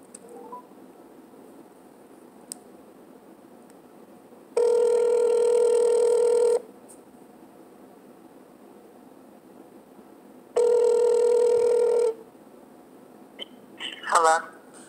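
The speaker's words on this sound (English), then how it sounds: "I'm going to call this client up." Telephone call to a client: faint dialing clicks, then two long, loud ring tones separated by a quiet pause, ending with a brief burst of tones as the line connects.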